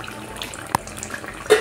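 Pumpkin flowers fry in hot oil, giving a soft, steady sizzle with a few sharp pops and crackles, quiet and close.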